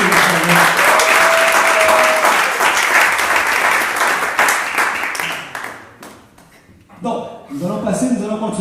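A church congregation at a French-language worship service applauds in praise, loud dense clapping mixed with voices that sustains for several seconds, dips briefly, then swells again.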